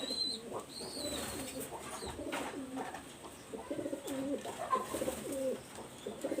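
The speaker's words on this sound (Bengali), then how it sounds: "সেই গোল্ডেন কবুতরটা হলো এই, সেই গোল্ডেনের নর কবুতরটা" Golden male pigeon cooing in repeated soft, throaty phrases, close by, with a faint rustle and light chirps in the background.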